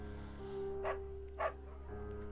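A beagle in the video game Firewatch gives two short barks over a steady low hum of game ambience.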